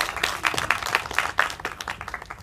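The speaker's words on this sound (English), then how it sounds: "With huge round of applause, ladies and gentlemen." An audience at a summit in New Delhi claps for a speaker coming on stage, a sparse, uneven patter of individual handclaps that thins out toward the end.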